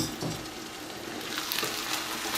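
Grated potatoes go into a pot of stewing cabbage with pork ribs, giving a steady close sizzle and soft stirring scrape with no voices.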